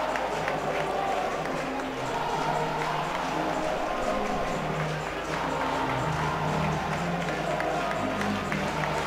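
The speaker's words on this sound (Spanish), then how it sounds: "Aplauden los hombres de Maya los suyos" Football players applaud their supporters at the end of a lost match, scattered clapping under a loud, steady stadium crowd roar, with a commentator talking over it.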